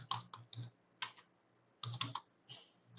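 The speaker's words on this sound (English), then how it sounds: "you just use command T for text, and you just click here and just type living" Keyboard typing for a text label in AutoCAD on a computer: short bursts of close, crisp key clicks in several clusters separated by brief pauses, with no talking.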